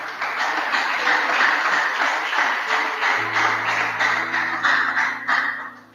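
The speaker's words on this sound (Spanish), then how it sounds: "Denles ofrenda de aplauso a nuestro Dios." A congregation applauds during a Spanish-language church service, with steady, full-room clapping. Sustained musical tones enter midway and continue under the applause.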